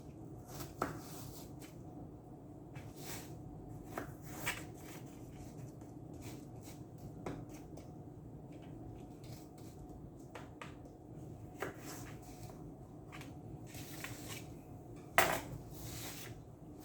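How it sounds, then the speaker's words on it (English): A knife slices peeled apples in a quiet kitchen, making faint, irregular clicks and taps against the board, spaced a few seconds apart with no voices. "So you're going to cut your apples up like this."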